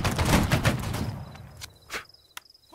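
A musket volley from a line of soldiers in the Holdfast battle game: a dense crackling burst of many shots at once, trailed by a few scattered single reports.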